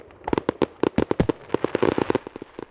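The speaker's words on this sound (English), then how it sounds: "Fireworks are happening." Fireworks bursting at a celebration, a rapid irregular string of sharp cracks and pops, some doubled and clustered, loud and close with no voices.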